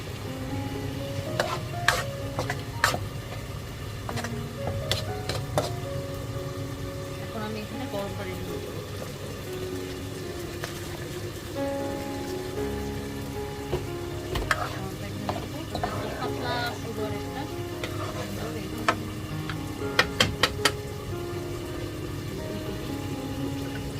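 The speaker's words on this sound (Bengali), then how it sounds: "টমেটোর চাটনি এখন পানি পাচ্ছে এখনও শুকায়নি" Tomato chutney still wet with liquid simmers and sizzles softly in a pan, with repeated spatula taps and scrapes as it is stirred.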